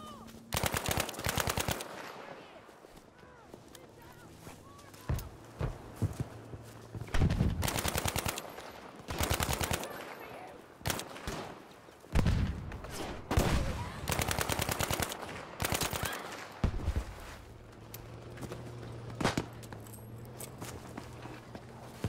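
Gunfire in the shooter Battlefield V, with repeated automatic bursts and single sniper shots cracking throughout, loud and close, mixed with footsteps and faint voices.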